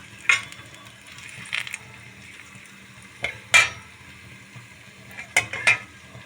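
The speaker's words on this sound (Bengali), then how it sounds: "ওই তেলের মধ্যে দিয়ে দেবো দুটো তেজপাতা, একটা শুকনো লঙ্কা," Bay leaves and a dried red chili drop into hot oil in a pan, a soft steady sizzle broken by a few sharp clicks and scrapes of stirring, close and alone with no talk.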